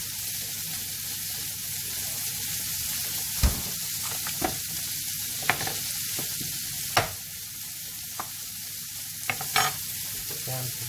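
Food frying in butter in a pan, a steady broadband sizzle running throughout, broken by several sharp scraping clicks as the pieces are stirred and moved around.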